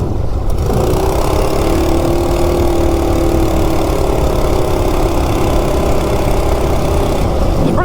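Small single-cylinder engine of a Coleman RSV minibike, a stock 196cc, running at a steady loud idle throughout, close to the microphone with no talking.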